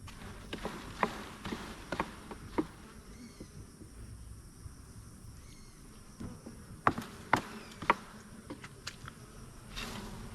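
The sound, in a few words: honeybees buzzing around hive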